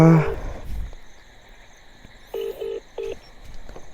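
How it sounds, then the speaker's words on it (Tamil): Repeated electronic tones from a phone announcing an incoming call, three short beeps in a row at moderate level following a brief burst of other sound at the start. "ஃபோன் வந்துக்கிட்டே இருக்குது."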